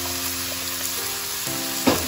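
Stink beans (sato) and fresh shrimp stir-fried in a pan give a steady close sizzle, with a scrape of stirring near the end and no talking.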